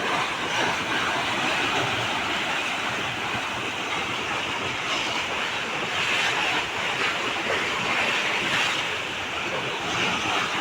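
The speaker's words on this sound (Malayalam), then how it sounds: "വെള്ളം നല്ല അടിപൊളി കുത്തി ഒഴുകുകയാണ്" Water from the Malampuzha dam rushes hard through a canal, a loud, steady broadband roar that stays constant and close with no talking.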